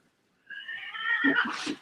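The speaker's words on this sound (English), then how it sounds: "That's angry cat sound in the background." An angry cat gives a single drawn-out yowl that rises and wavers before breaking into a few short, harsh pulses, clear and fairly loud in a quiet room.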